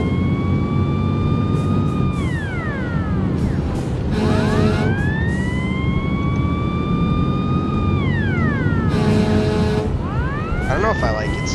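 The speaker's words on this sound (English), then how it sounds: "I don't know if I like its siren." A fire truck siren in a firefighting video game wails in long rising and falling sweeps, broken by a few short bursts of a harsher yelp tone, loud and continuous over a low rumbling engine bed.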